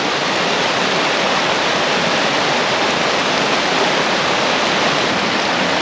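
Tumalo Falls near Bend, Oregon, pours in a loud, unbroken broadband roar of falling water, steady and close throughout with no voices.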